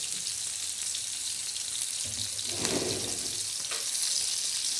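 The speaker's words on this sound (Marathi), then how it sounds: "अशा मिरच्या चांगल्या झणझणीत आणि चमचमीत असं तळून घ्यायच्या" Green chillies fry in a pan with a continuous bright hiss and crackle, close and fairly loud, swelling slightly midway, for a sabudana khichdi; no speech.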